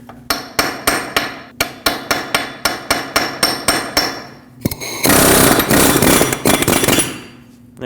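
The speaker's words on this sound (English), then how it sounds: "I'm going to take a punch and a hammer and at least break it free." A rapid series of sharp metallic hammer blows on a punch against a rear wheel hub on a 2006-2015 Lexus IS250, about fifteen evenly spaced strikes, followed by a louder burst of grinding clatter.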